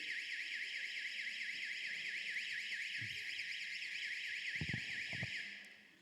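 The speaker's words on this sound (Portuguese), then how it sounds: "alarme da igreja" An electronic church alarm wailing in a steady, rapidly warbling tone that holds throughout and fades at the end, with a few low thumps and knocks underneath.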